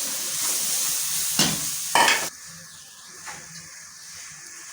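Masala frying in ghee for keema tikki, a steady sizzle and hiss with a couple of brief louder stirring scrapes, close by and with no talk.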